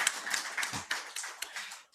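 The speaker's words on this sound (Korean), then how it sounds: "박수 한번 주십시다" Congregation clapping briefly during a Sunday church service, a short spread of uneven handclaps that soon thins out and fades.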